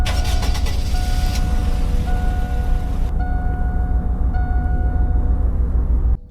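A 2001 Chevrolet Silverado 1500 pickup in the Roblox game Greenville gives a steady, loud engine drone throughout, with sustained whining tones shifting a few times, and it cuts off abruptly at the end.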